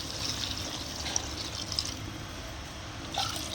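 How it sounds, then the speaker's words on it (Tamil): Water poured into a pot of chicken curry (kozhi kuzhambu) as it cooks, a steady soft liquid rush with faint splashes throughout, close by and alone. "இப்போ தண்ணி ஊற்றிக்கலாம்."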